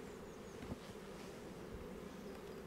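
Honey bees buzz densely around frames being shaken into a small nucleus hive in July, a continuous close swarm hum with individual bees droning past, no talking.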